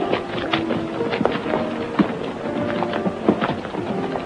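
Horse hooves clip-clop along in a steady walking rhythm, close and fairly loud, with sharp knocks standing out against a busy background, set in a 1940s Texas western.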